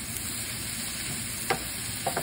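Butter and omelette ingredients being stirred together in a pan, with a steady soft sizzle throughout and a couple of brief scraping clinks near the end.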